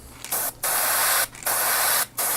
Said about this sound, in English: I start spraying.